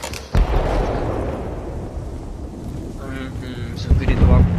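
Gunfire in the video game Battlefield: Bad Company 2, with a sharp shot near the start and a cluster of bursts near the end, played under someone talking over the game.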